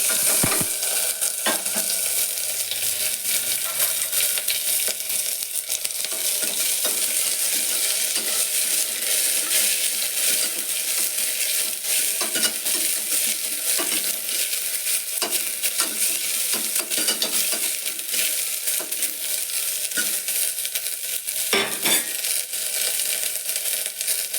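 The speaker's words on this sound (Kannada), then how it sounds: "ಒಗ್ಗರಣೆ ಹಾಕ್ತಾಯಿದ್ದೀನಿ ಎಣ್ಣೆ ಸಾಸಿವೆ ಹಾಕಿದ್ದೀನಿ ಈರುಳ್ಳಿ ಕರ್ಬೇವಿನ ಸೊಪ್ಪು ಹಾಕ್ತಾಯಿದ್ದೀನಿ" Mustard seeds, chopped onion and curry leaves fry in hot oil as a tempering for a horse gram sprout curry, giving a steady, close sizzle with occasional crackles and stirring scrapes throughout, no talking.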